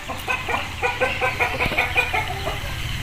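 A Topla Aseel hen clucks repeatedly in quick, close, loud bursts, steady throughout with no voices.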